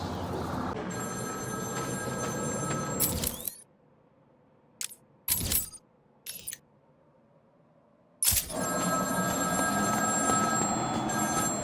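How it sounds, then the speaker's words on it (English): A telephone rings in the video game Batman Arkham City, heard outside the Iceberg Lounge at night: loud sustained ringing drops to near silence broken by a few short bursts, then the ringing returns loudly. "There's a phone ringing somewhere."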